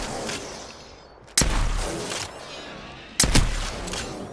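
Two loud gunshot bursts in the video game Apex Legends, each a sharp booming blast with a decaying tail, separated by a quieter stretch of background game noise.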